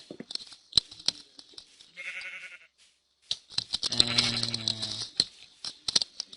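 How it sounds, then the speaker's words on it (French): Sheep in a Minecraft modpack game bleat once in a drawn-out, wavering cry, set among scattered sharp clicks and taps from gameplay. "Le mouton à droite."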